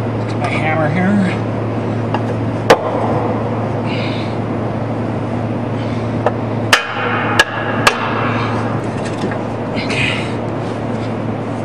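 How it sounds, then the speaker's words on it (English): A hammer strikes an exhaust resonator clamp on a GM W-body car in several sharp metallic hits, one early and a quick cluster of three later, over a steady background hum with faint talk. "Get my hammer here."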